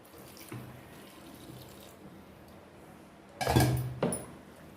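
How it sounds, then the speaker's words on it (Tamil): Water poured into a pan for a Tirunelveli-style chicken gravy, a short splashing burst of running liquid near the end following quieter kitchen clatter, close and fairly loud. "இது வந்து மீடியமாக தான் தண்ணி ஊற்றணும்"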